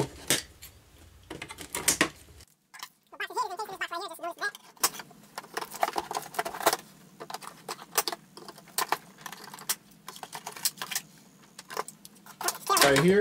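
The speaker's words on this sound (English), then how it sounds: "to get Scorponok out of the box, I'm going to need a pair of scissors" Crisp metallic snips and clicks, close up, as scissors cut through the packaging ties of a Transformers Earthrise Titan Class Scorponok toy, with plastic rustling and brief handling noises between cuts.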